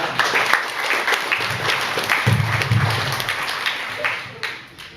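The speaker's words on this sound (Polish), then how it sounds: "I proszę, brawa." A crowd at a music video premiere claps for the mayor in a dense, steady patter of applause that fades slightly toward the end, with some voices mixed in.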